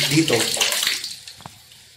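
Water pouring and splashing into a bucket during hand laundry; a loud rushing pour fades out after about a second, followed by a few faint drips and knocks.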